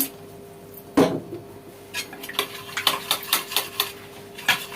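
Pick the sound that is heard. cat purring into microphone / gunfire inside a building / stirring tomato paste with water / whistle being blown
stirring tomato paste with water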